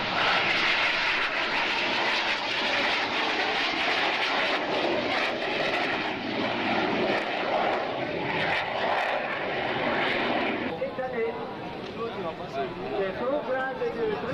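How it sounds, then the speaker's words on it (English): Solo display jet at an air show performing the low-speed crazy flight, a loud roaring engine that swells and shifts pitch as it passes, with a commentator's voice running over it. "And coming in for what they call the crazy flight."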